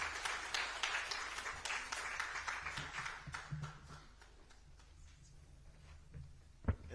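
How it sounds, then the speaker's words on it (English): A crowd's applause at the AGRF African food systems forum, dense clapping that starts strong and gradually thins out and fades, ending with a single sharp knock. "Another round of applause to Dr. Aboud Flame Njumbe."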